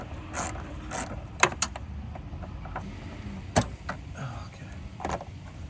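A 10mm socket ratchet working on the intake screws of a 9th-gen Honda Si, giving several short, sharp clicking bursts spread out over a low mechanical background, close and fairly quiet.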